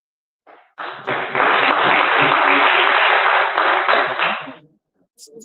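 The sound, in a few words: audience applauding at a political town hall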